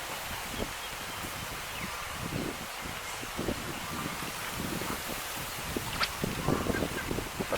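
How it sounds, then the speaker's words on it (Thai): Wind blowing across open water at a fishing spot, a steady broadband rush with soft gusty swells and a few faint rustles, no voices. "เป็นลมนะครับตรงนี้นะครับ"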